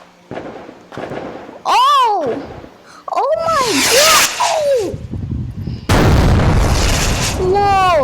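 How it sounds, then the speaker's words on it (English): Large fireworks burst loudly in a series of booms and crackling explosions, some with whistling rising trails, while people exclaim in surprise between and over the blasts. "Those fireworks are so big!"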